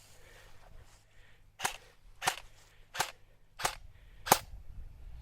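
An E&L AK74 airsoft rifle fires BBs in five sharp, evenly spaced single shots, each a crisp snapping crack over a low background hum.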